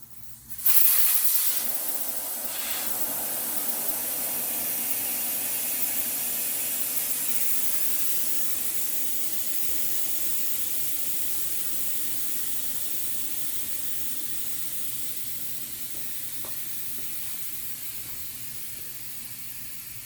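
Air rushing out of a Model T tire's inner tube after the valve stem core is pulled, a loud sudden hiss that holds steady for many seconds and slowly fades as pressure drops, with no talking.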